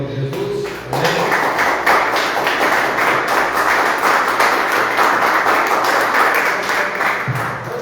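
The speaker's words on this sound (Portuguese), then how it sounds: "Vamos aplaudir Jesus" A church congregation bursts into loud, sustained applause during a service, a dense clapping roar that starts abruptly and then tapers off near the end.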